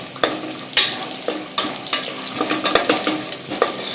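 Peanuts fry in hot oil for broken wheat upma, a close, lively sizzle broken by repeated sharp clinks and scrapes of stirring, with no talking.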